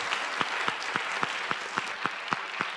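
Sparse, scattered clapping from an audience at a Gatton College event in appreciation of Nicholas Kristof, a dozen or so distinct claps at a loose, uneven rhythm, fairly faint and slightly distant.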